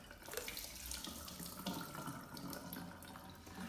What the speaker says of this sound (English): I'm not going to drink the coconut water, so I'm gonna discard the water